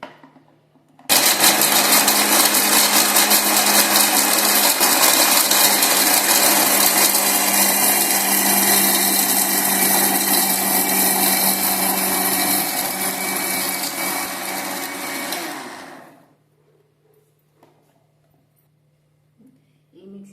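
Mixer grinder whirring loudly and steadily as it grinds dried coconut into powder for a chana dal spice mix, running for about fifteen seconds before winding down and stopping into near silence.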